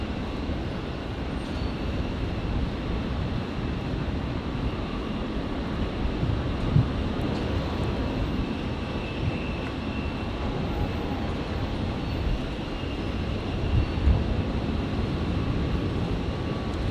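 A Qantas Boeing 737 touches down on runway 01 right at Brisbane Airport, a steady broad roar of jet and wind rumble running loud and continuous throughout.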